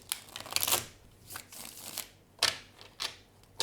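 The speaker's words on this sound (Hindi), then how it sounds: "One last shuffle." Tarot cards being shuffled by hand, several quick riffling bursts close to the microphone separated by brief pauses, fairly soft, with no talking.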